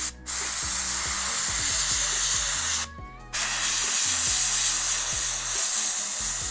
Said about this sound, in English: So I push it on there, and then I spray.